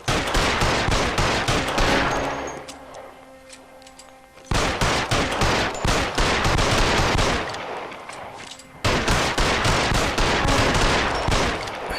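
Sustained automatic gunfire in the video game L.A. Noire, loud, dense bursts rattling almost nonstop, with one brief lull before the shooting resumes, then another short dip.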